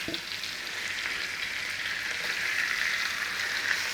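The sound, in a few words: meat sautéing in a hot pan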